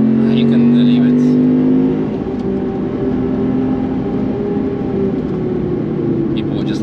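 A Lexus IS F V8 on the Nürburgring drops through the gears, its loud engine note falling and rising with blips on each downshift, under a steady close cabin drone.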